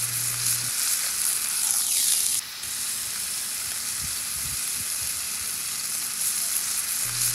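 Smash burger patties sizzle steadily on a hot griddle, a close, constant frying crackle with a faint scrape partway through.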